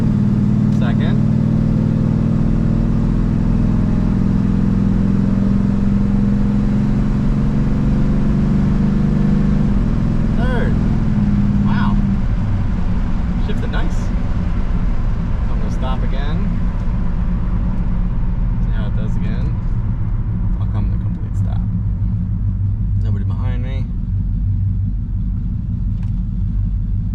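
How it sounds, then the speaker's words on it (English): A Pontiac LeMans with a rebuilt three-speed transmission drives on a road, its engine rumbling steadily up close while the pitch and tone shift partway through as it changes gears. "pulling out onto the road. I'll come to a stop. See if it's got all 3 gears."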